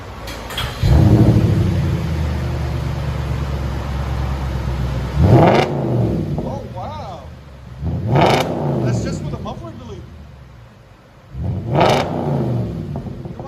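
A deep, loud 4.2L V8 of a 2010 Audi S5 with muffler-deleted dual exhaust idles, then three sharp revs burst out in turn, each rising and falling back, with brief voices between them.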